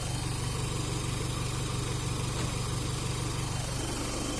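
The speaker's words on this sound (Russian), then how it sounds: "Прогретый двигатель на холостых оборотах." A warm Toyota Hiace KZH116 with a 1KZ-TE diesel engine idles after about 20 minutes of running, a steady, close, even rumble with a continuous low throb and no speech.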